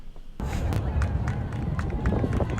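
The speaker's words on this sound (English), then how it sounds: "People clapping." A crowd watching a flyover breaks into scattered clapping and cheering that starts abruptly and continues steadily, moderately distant, with voices mixed into the applause.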